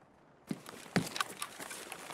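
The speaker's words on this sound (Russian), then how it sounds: "По улице кто-то бегает." Footsteps of someone running along a street in the shooter game Escape from Tarkov, a few scattered distant thuds and patters after a moment of near silence.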